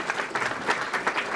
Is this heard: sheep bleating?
no